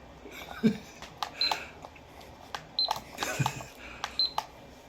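Buttons pressed on a kitchen timer give three short, quiet electronic beeps spaced a second or so apart, with soft voices and small household rustles around them.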